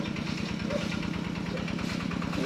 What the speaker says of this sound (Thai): เสียงรถไถ